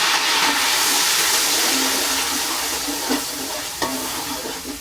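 Yogurt going into a masala already frying in a pan for black chickpea pulao, giving a loud, steady sizzle with a few soft splashes and stirring knocks near the end, with no voices.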